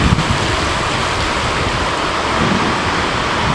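Heavy rain pouring down outdoors, a dense, loud, continuous broadband hiss that stays steady and alone for the whole stretch.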